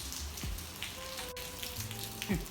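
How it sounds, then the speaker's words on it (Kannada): Steady rain pattering down, a dense wash of drops on a hard surface with a few low rumbles and knocks underneath. "ಏನು ಮಳೆ ಜೋರು ಬಂದ್ಬಿಡ್ತದೆ"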